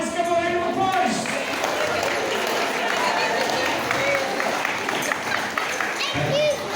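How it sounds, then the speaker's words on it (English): An audience at a comedic sheep shearing stage show applauds a sheep, with steady crowd clapping throughout, a presenter's voice audible over it near the start and end. "Bob, let's give him a round of applause."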